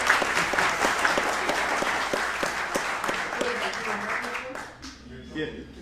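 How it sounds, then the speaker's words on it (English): A crowd at a calypso music event applauds a performer with a dense, lively burst of clapping. A voice speaks over it, then the clapping thins out and dies away near the end. "give him a big round of applause."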